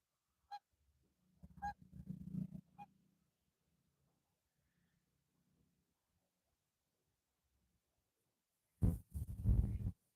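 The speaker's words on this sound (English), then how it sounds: "There's a duck. That's not a goose." A duck on a river gives a few short, sharp calls close together, followed by quiet and then a burst of louder rumbling noise near the end.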